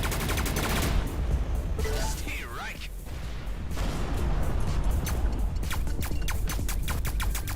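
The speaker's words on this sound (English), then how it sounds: "I really shouldn't be using a Gauss cannon this far away." Gauss cannon and drone gunfire from the space shooter game Everspace 2 rattle in dense, continuous volleys with sharp repeated shots and booms, loud over a thick roar of game sound and a talking voice.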